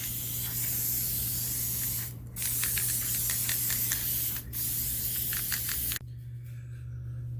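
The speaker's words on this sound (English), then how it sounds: "I'm just gonna spray paint it first to get a nice even base coat" Aerosol spray paint hissing in steady close bursts over a clay dinosaur model built on a dollar-store skeleton, laying down an even base coat, with short pauses between passes and a low constant hum underneath.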